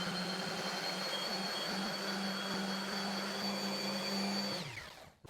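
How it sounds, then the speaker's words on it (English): An orbital sander fitted with a buffing pad polishing epoxy resin shelves, a steady loud whirring drone with a constant pitch that holds for several seconds and then winds down as the sander switches off. "I've got my orbital sander with a buffing pad"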